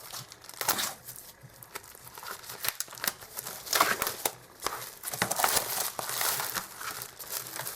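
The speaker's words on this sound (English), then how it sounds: "wrapped up all together in this plastic, is all of the bases for the cards. So let's unwrap this together." Plastic wrapping around a stack of card bases from a card-making kit is unwrapped close up, crinkling and tearing in irregular bursts of rustle with brief pauses.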